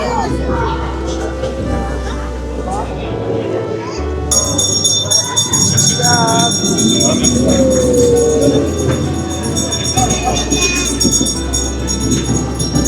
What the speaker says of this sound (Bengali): এই সেই টয় ট্রেনটি